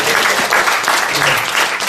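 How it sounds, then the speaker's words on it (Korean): Dense, steady applause from the attendees at the opening of a general meeting, continuous clapping filling the whole short stretch. "선언하고 박수를 쳐주세요"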